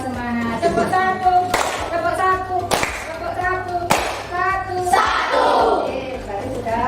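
A class of children claps in unison in a schoolroom, several sharp rhythmic bursts of clapping mixed with shouting voices and chanting.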